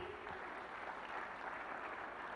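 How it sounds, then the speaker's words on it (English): Steady, dense applause from a conference audience at a plenary session in Accra fills the short stretch evenly, with no pauses or breaks. "Big applause to our audience, please."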